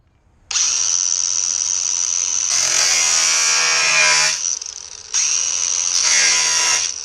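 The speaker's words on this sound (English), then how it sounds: "I've got to drill out some spot welds around here." A power drill bores out spot welds on a rusty hatch of a Datsun 260Z, whining loudly and close in two long bursts with a brief dip between them as the bit works through the sheet metal.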